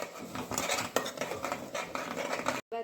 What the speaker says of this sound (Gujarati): બરાબર હલાવી દઈશું